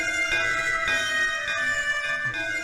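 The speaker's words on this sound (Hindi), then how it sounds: "वो देखिए, वो घंटी बजा रही है।" A bell being rung, giving repeated bright metallic strikes whose ringing tones overlap and sustain, steady and moderately loud with no speech.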